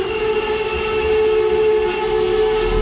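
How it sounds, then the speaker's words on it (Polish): A train passes nearby on the Kłodzko–Wałbrzych railway line in Poland, with a steady rumbling roar and sustained whistle-like tones, continuous and fairly loud. "pociąg już jedzie"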